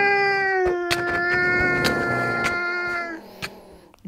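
A long, drawn-out cat yowl from Minecraft, loud and close, holds steadily for a few seconds before cutting off, with a few sharp clicks around it.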